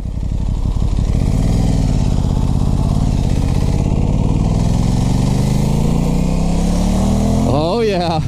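A 2021 Aprilia Tuono 660 motorcycle engine droning steadily while riding, loud and continuous with pitch rising and falling as it accelerates and shifts, under a rider's talking.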